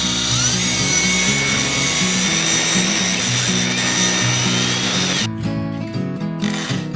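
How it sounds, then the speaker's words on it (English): A power drill bores a hole through an old tire, giving a steady close whine for about five seconds before cutting off into quieter handling noises. "I drilled a hole in this tire."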